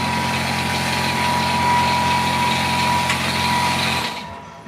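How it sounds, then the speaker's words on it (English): Power sander running continuously on a surface, a loud steady buzzing whir with a faint high whine, cutting off abruptly near the end. "I'm gonna go ahead and get this thing sanded down"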